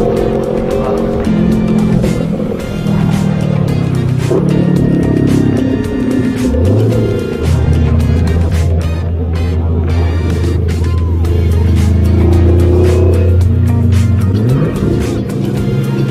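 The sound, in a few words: sports car engine revving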